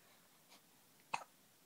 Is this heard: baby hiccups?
yes